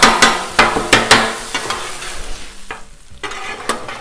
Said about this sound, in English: just keep flipping and chopping